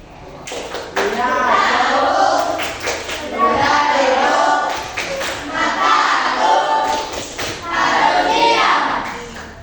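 A classroom of schoolchildren performs the tepuk diam clap chant: rhythmic group clapping in repeated patterned bursts, mixed with children chanting loudly together, with short pauses between phrases.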